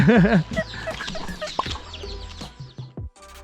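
A native village chicken in a Karen hill community on a cold morning gives a loud, wavering call up close, followed by scattered clucks and nearby rustling.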